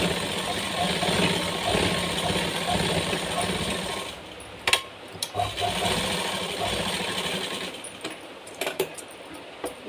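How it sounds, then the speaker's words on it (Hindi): A sewing machine stitches a blouse sleeve in a long, continuous close-up whir for about four seconds, followed by scattered clicks and short bursts of stitching. "एक सिलाई हम इस तरीके से लगाएंगे।"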